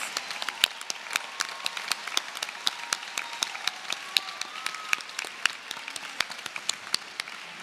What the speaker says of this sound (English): Can we get a round of applause for all of our Bachelor's of Science degree graduates?